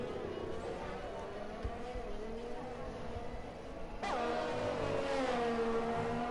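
F1 race car engine in a racing video game, a steady droning whine that climbs sharply in pitch as the car accelerates partway through, with faint commentary voices underneath.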